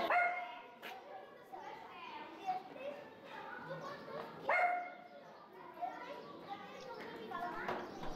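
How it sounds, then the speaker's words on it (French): A small dog yaps in repeated sharp barks and whimpers while trying to push a heavy house door on a town square in Monells, Catalonia; children play and people talk in the background. "un petit chien aboie en essayant de pousser la lourde porte du logis de ses maîtres"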